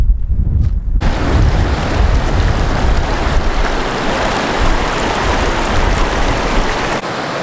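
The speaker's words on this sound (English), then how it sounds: "that little stream will feed into the Gila" Steady rushing water of a running-high stream feeding the Gila River in New Mexico flows loudly and close, a constant broadband roar with no voices.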